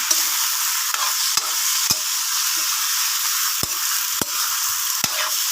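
Shrimp stir-fry in a pan with onion, garlic, ginger and tomato for a Filipino lunch, a constant close sizzle broken by a handful of sharp spatula scrapes and knocks against the pan.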